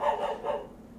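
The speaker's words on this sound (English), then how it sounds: "my sister's family's dog" A dog gives two quick barks close by, alone in a quiet room.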